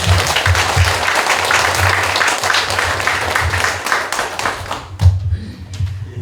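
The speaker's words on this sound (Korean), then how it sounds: "우리 모두 박수로 하나님 앞에 영광 드리겠습니다" Congregation applauding at a church sanctuary dedication thanksgiving service, a loud, dense wash of many hands clapping that fills the room, with a brief louder burst near the end as the clapping begins to thin.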